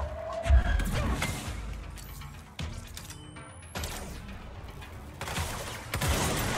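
Gunfire in the video game Control comes in scattered bursts and sharp cracks with thuds and crashes among them, moderately loud against a busy game soundscape.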